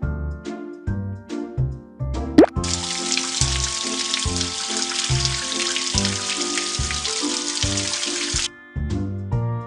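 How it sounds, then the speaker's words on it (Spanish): Water rinsing soap bubbles off a puppy's paws in a PAW Patrol mobile game, a steady hissing spray running for several seconds over bouncy, rhythmic background music and ending abruptly. "Enjuaguemos las burbujas ahora."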